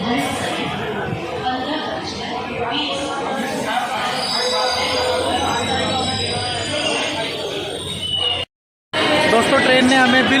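Express train on the Kathgodam–Delhi Uttaranchal Sampark Kranti route pulling into Delhi Junction station: steady loud rumble and wheel squeal with a bright whine, crowd chatter throughout, a brief dropout near the end.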